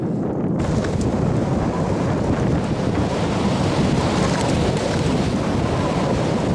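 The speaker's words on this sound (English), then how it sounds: "it's really windy here" Strong coastal wind on the Costa Brava, Spain, buffets the microphone in a steady, roaring rush, with a faint wash of surf blended underneath; no voices.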